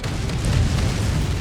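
Missile explosion in the Ace Combat 7 flight video game, a sustained low rumbling boom with dense roaring noise that holds steady and loud for the whole moment, with no talk over it.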